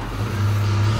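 A car engine hums steadily and close as the car pulls up to a loading dock, a low, even motor drone with no talking.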